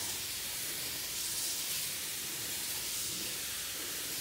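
A sprayer hisses continuously over garden beans, a close, broad rushing spray that holds steady at a moderate level for several seconds.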